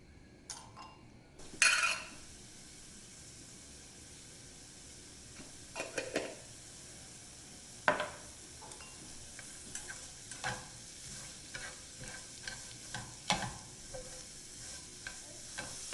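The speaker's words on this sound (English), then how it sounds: "Lightly oil the pan and toss in the julienne carrots." Julienne carrots stir-fried in a lightly oiled pan, with a soft steady sizzle and scattered stirring scrapes and light clinks of utensil against pan, quiet overall with a few sharper knocks.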